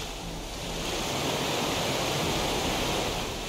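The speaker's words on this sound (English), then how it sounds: "The waterfalls!" Steady rushing roar of a waterfall in the Minecraft Story Mode video game, a broad continuous wash of water noise that swells slightly and holds loud throughout with no voices.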